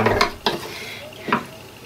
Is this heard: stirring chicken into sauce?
yes